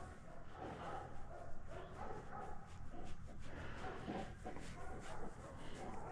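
Several dogs bark and yip excitedly at a distance, a continuous chaotic chorus mixed with muffled voices in the background.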